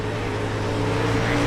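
A dirt late model's wheels spin in an iRacing race at Knoxville Raceway: a dense, steady engine roar, loud and close, holding level throughout.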